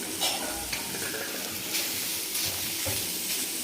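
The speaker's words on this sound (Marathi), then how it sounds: "कांदा एकदम छान आपल्याला काळसर भाजून घ्यायचा आहे लोखंडी तव्यावर टाकलेला आहे" An onion cut into large vertical pieces roasts on a hot iron griddle, giving a steady, close sizzle and hiss with scattered small crackles and pops throughout.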